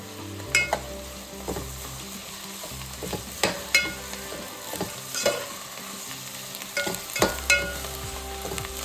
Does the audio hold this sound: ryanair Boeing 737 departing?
no